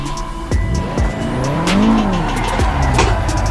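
A Nissan 240 drifts in the Assetto Corsa VR racing game: loud, close tire squeals rise and fall over a revving engine whose pitch swoops up and down in a short burst.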